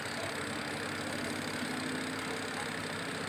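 A Sanken Duoz twin-tub washing machine spin-drying normally gives off a steady, faint whirring hum with a constant rushing texture and no speech.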